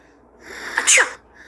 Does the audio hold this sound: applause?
no